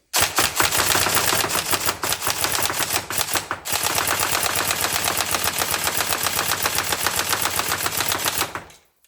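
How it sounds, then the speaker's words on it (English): A Tokyo Marui Mk18 NGRS airsoft AEG rifle fires single shots in very rapid succession, a dense, crisp mechanical clatter of close, loud cracks running almost continuously for about nine seconds, with one brief pause, and no talk. "So I'm just going to test it on single shots."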